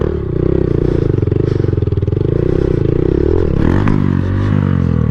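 A Honda Grom motorcycle carves circle wheelies, its small engine droning loud and steady up close with rapid pulsing, then shifting pitch near the end amid a brief clattering scrape.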